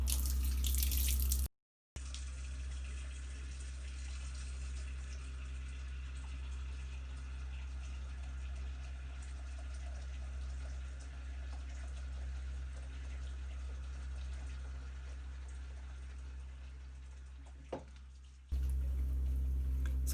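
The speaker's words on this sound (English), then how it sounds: "I'm going to then pour in a good amount of water." Hot tap water poured steadily into a jar holding two chicken carcasses, a continuous close splashing and filling rush that runs for most of the time, with no talk.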